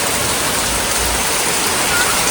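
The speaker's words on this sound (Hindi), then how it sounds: "फाइनली बारिश तेज हुई और हमारे यहाँ भी बारिश आई।" Heavy rain pours down in a steady, dense roar of broadband hiss with a low rumble underneath, close and continuous throughout with no voices.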